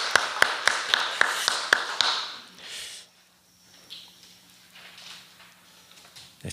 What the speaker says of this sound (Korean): 박수로 하나님께 영광을 올려드리겠습니다.